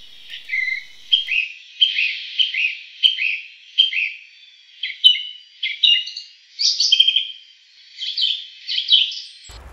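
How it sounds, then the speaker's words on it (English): A lone song thrush sings in the New Forest in early spring, delivering clear, varied phrases repeated in bursts with short pauses, close and bright against a quiet background. "Out on my walk, I heard a lone song thrush singing his heart out."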